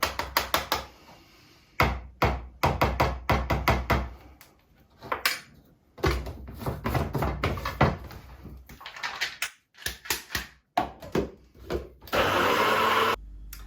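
Blender blitzing wild garlic leaves into pesto in short stop-start bursts, loud whirring pulses separated by pauses and clunks, ending in a longer sustained run.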